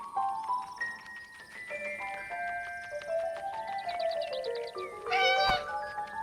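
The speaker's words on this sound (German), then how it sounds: "Kätzchen." Kitten meowing in the video game 11-11 Memories Retold, a rising series of meows ending in a louder cry at the close, heard over a soft melodic music score.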